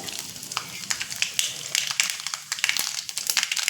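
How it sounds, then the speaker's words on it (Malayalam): Mustard seeds and two dried red chillies frying in a little oil for a chickpea curry, giving a steady crackling sizzle with frequent sharp pops and spits close by, no voices. "കുറച്ച് എണ്ണയിൽ കടുക് ഇട്ടിട്ടുണ്ട്. 2 വറ്റൽമുളകും കൂടെ ഇട്ടിട്ടുണ്ട്."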